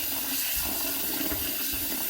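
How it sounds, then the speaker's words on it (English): Basmati rice is swished and rinsed in water for a biryani, a continuous close splashing and sloshing wash with no pauses. "Wash the rice."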